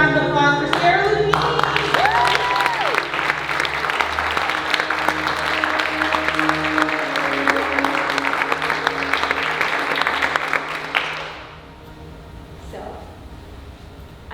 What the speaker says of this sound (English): big round of applause for Sarah Lupini